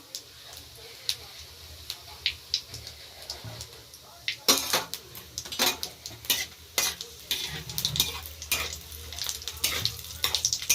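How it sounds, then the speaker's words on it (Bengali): Whole cumin seeds fry in hot oil, giving a faint sizzle crossed by frequent sharp crackles and pops, with spoon and pan knocks growing busier partway through. "আর দিয়ে দিচ্ছি গোটা জিরে। একটু ভাজা হবে"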